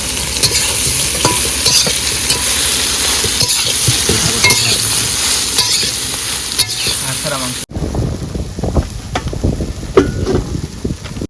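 Soybean chunks fry in hot oil in a home kitchen, a loud steady sizzle with stirring scrapes that carries on throughout, briefly muffled and then resuming more sharply with clattering stirs.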